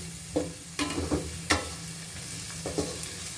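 Paneer cubes fry in ghee in a pan for vegetable pulao, a soft steady sizzle broken by several sharp scraping stirs and clinks of a spoon against the vessel.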